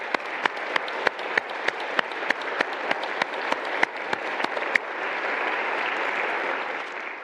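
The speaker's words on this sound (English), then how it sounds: "I'd like you to give a big round of applause to them" Church audience applauding the Kettering Praise Orchestra at a Celtic concert, with a few loud, rhythmic close claps beating over a steady crowd clapping that swells into a fuller, even ovation.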